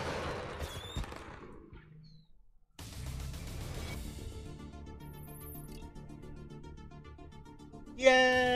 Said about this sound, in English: I would think that they would stop with the fireworks after the gigantic bombing that went off